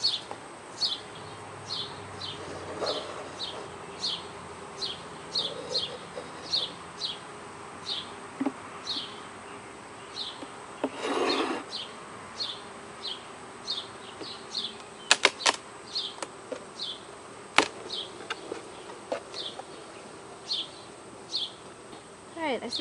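Honey bees buzzing around an open hive, repeated close buzzing passes rising and fading over faint background hum, with a few sharp knocks and clicks.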